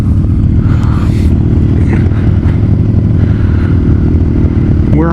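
A 2006 Suzuki GSX-R750 motorcycle being ridden, a loud steady engine drone with rumbling exhaust and wind buffeting, close and continuous throughout.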